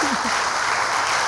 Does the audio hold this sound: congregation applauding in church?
yes